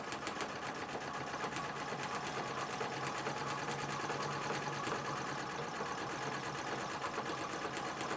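A Singer 66 treadle sewing machine in a parlor cabinet runs steadily and close, its needle mechanism chattering in a dense continuous rhythm with a low mechanical hum underneath, no voices.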